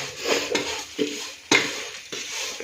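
A spatula scrapes and stirs repeatedly as vermicelli roasts in a dry pan for semiya payasam, a few rhythmic strokes with a light sizzle underneath, close and moderately loud.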